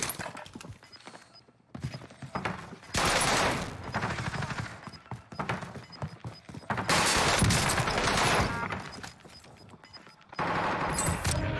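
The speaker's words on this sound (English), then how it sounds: "There, now they're shooting each other." Bursts of video game gunfire from players shooting each other in Warzone on Rebirth Island, loud sustained automatic fire in several long volleys separated by brief quieter gaps.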